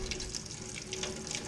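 Water rushes steadily from a Kohler Koi kitchen faucet sprayer as it is flushed during installation, a continuous close hiss and splash running without pause.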